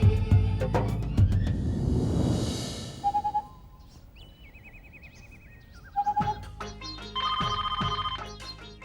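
A phone rings in short electronic bursts, pausing between rings, with music playing before and after.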